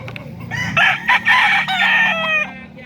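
A spangle-feathered stag rooster crows loudly and close by, delivering one full, strained cock-a-doodle-doo with several broken segments over faint background noise.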